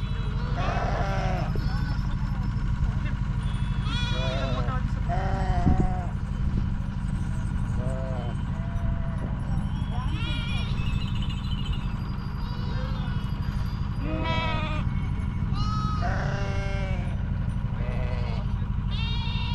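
Several sheep of a travelling flock at an evening camp in a Maharashtra village bleat repeatedly and fairly close, in scattered overlapping calls, while people talk throughout and a steady low rumble runs underneath.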